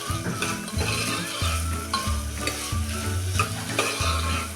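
Wet soybeans with salt are stir-fried in a pan, with a steady sizzle and rhythmic scraping strokes of a spoon recurring about every half second, close and alone.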